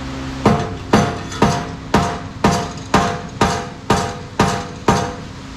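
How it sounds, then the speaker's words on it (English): Steady hammer blows knock old muffler pipes loose from a vise on a 1968 Nova Super Sport, about ten sharp metallic strikes at an even pace of roughly two per second, loud and close. "let's see if we can get these pipes off using the handy dandy vise. And I don't know, some hammers"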